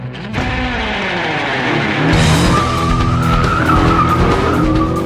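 A Renault Megane hot hatch in sport mode launches in a drag race, its engine revving hard as the tyres squeal and skid, then the revs climb steadily through the run, loud and close.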